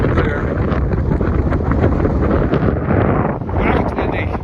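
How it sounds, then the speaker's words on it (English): Strong wind buffets the microphone on a mountain ridge near a false peak in the Guadalupe Mountains, a loud, constant roar with gusty swells throughout. "Wow, it's windy."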